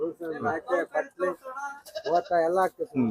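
Goats bleat repeatedly in quavering calls at a sheep and goat market in Chitradurga, overlapping with people talking nearby.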